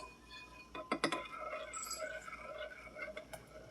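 A spoon stirs oatmeal made with hot liquid in a bowl, giving a few quiet scraping clinks against the bowl, denser near the start, then soft wet stirring that fades toward the end.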